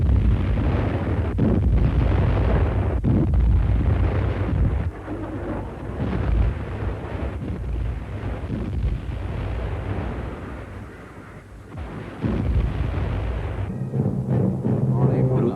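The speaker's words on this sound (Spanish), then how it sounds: "esta extraña guerra adornada con ocasionales duelos de artillería continúa." World War II artillery duels produce a dense, continuous rumble of heavy booms and blasts that rises and falls over about fifteen seconds, loud and close.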